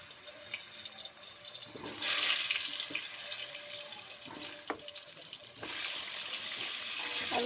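Washed, cut potatoes drop into hot oil for a potato chicken curry. A sudden, bright sizzling hiss bursts out, settles, then surges again a few seconds later, fairly quiet and close, with no talking.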